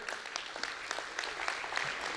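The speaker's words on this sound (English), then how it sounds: "Let's give her a big round of applause." A business celebration crowd in El Segundo applauds in a moderately distant room, a continuous wash of many hands clapping with a few louder individual claps popping out steadily across the short stretch.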